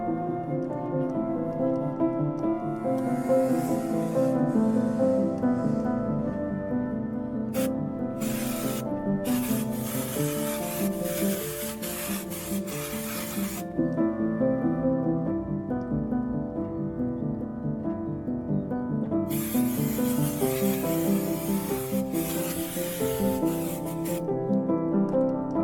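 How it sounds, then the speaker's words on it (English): Brake cleaner sprayed and wiped on a BMW F36 435d brake caliper, heard as several loud hissing bursts of a few seconds each over steady background music. "I was cleaning the brake with the brake cleaner."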